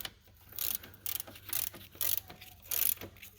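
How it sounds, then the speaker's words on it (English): A ratchet tightens a bolt while a GMC truck's transmission is being repaired, sounding as short bursts of rapid clicking, five quick strokes with brief pauses between them, close and fairly quiet. "Where'd my ratchet go?"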